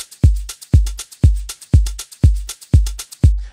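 Afro house beat programmed in FL Studio: a steady four-on-the-floor kick layered with sample-pack percussion tops, crisp shakers and hats ticking between each deep thump, loud and up front with no talking.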